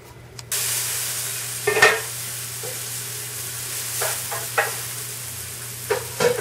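Prosciutto sizzles steadily as it renders in a pan, a constant frying hiss broken by a few short scrapes and clinks of a utensil stirring.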